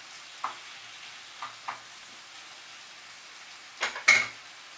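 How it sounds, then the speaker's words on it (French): Homemade tomato sauce with garlic being stirred in a pan, a faint low simmer broken by a few soft utensil scrapes and a brighter clink of spoon on pot near the end. "Je mélange."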